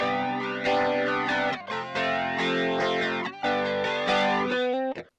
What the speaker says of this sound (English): I'll put on the Tweed Deluxe, and let's see what that sounds like.